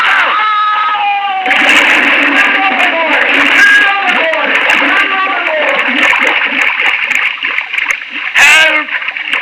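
A man falling overboard from a boat railing hits the water with a loud splash and churning, gurgling water, while voices talk and shout over it throughout, with another sharp splash near the end.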